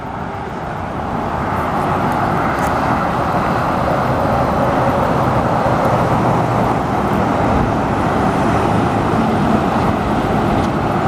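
Trucks on Interstate 40 produce a steady, broad traffic roar that holds constant throughout, heard from nearby woods.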